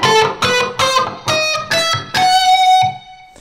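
An electric guitar with an effects-driven, slightly distorted tone plays an E harmonic minor scale, about eight clearly separated picked notes in an even rhythm, the last one ringing out before fading, loud and alone.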